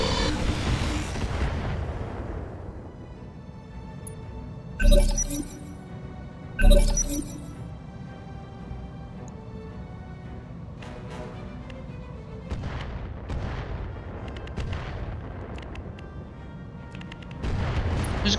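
Two heavy, booming blasts of mech weapons fire from the BattleTech RogueTech mod, a couple of seconds apart, loud over a steady game music and ambience bed.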